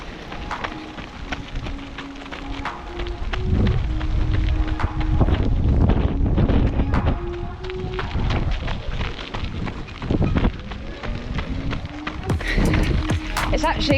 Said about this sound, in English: So the wind is pretty savage again.